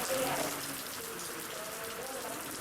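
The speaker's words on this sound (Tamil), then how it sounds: "குன்னூர், மஞ்சூரு, கோத்தகிரி உள்ளிட்ட பகுதிகளில் மழை பெய்தது." Rain falls steadily in the Nilgiris hills, a dense, even hiss of drops hitting surfaces close by, constant throughout with no speech.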